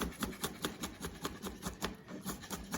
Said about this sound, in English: We're just gonna chop that.